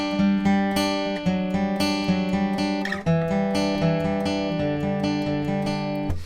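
Guitar plays the third verse of a song, ringing chords sustaining steadily and shifting to a new chord midway, full and close with no voice.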